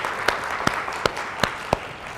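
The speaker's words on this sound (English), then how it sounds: "I think we should take a minute to just give them all a round of applause" Sparse, slow handclaps at a blockchain summit conference, five sharp claps spaced evenly over about two seconds, fairly close against a quiet room murmur.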